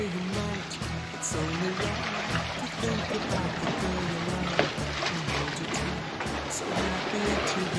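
Steady rush and splash of water along a sailboat hull under sail, a continuous wash with faint rhythmic slapping and wind noise, no engine.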